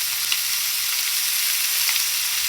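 Shrimp or similar food sizzles steadily in a hot frying pan, a constant hissing crackle with faint stirring sounds, moderately quiet and uninterrupted, with no one talking.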